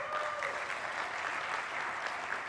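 Sustained applause fills the room at a youth business forum, many hands clapping in a thick, even wash at a steady level throughout, with no break or pause.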